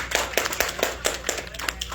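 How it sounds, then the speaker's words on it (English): An audience claps at a live talk at Lashays, a brisk round of hand claps with sharp individual slaps standing out, close and fairly loud throughout the short burst. "give a round of applause for yourselves for coming on out."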